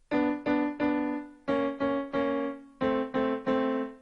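Solo piano plays the opening of Dance of the Sugar Plum Fairy: crisp, detached notes in small groups, each struck and quickly decaying, with short pauses between phrases. It is heard close and alone, with no voices.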